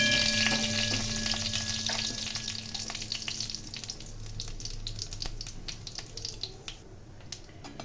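Dried red chillies and panch phoron sizzle in hot oil for a Bengali masoor dal, a steady crackling fry that is loudest at first and gradually softens, with occasional light stirring clinks and no talking.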